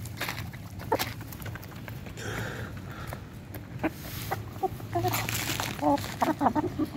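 Chickens peck mealworms from a bag, giving soft clucks, quick pecking taps and rustling at close range, growing busier toward the end.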